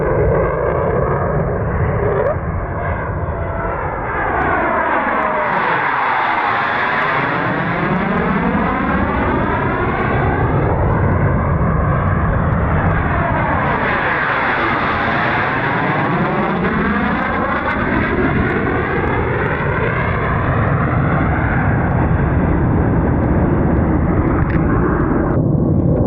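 Propeller aircraft fly low over Lake Bala in Wales, their engines roaring loudly and continuously as two planes sweep past one after another, each pass rising and falling in pitch as it approaches and recedes.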